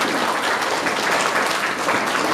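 An audience at an award ceremony gives a dense, steady round of applause, loud and continuous for a couple of seconds with no voices over it.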